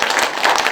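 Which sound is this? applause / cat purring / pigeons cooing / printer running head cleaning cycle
applause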